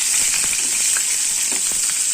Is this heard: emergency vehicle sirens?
no